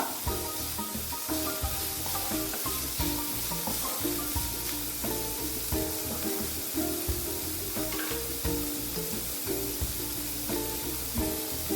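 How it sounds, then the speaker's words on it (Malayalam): Sliced onion sautés in a pan while being stirred, giving a constant soft sizzle broken by repeated scraping and rubbing strokes, close and steady with no talking. "സവാളയുടെ പകുതി നമ്മുടെ കൂടി ചേർക്കാം ഇത് ചെറുതായിട്ടൊന്ന് വാടി വരണം ഇളക്കി കൊടുക്കുക"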